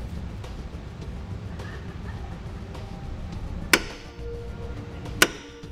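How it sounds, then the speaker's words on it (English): A center punch is struck twice with sharp metallic taps several seconds apart to mark a hole location for a trailer hitch on a 2017 Nissan Leaf, close and distinct over a quiet background. "Now we'll just use a center punch."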